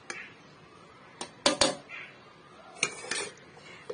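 Dishes and utensils clatter as home-cooked food, white rice, a slice of lemon and curry gravy, is served onto a plate in a kitchen: a few sharp knocks and clinks in separate bursts, with no talking.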